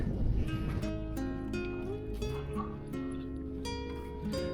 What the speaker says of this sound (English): Puppies are enjoying themselves.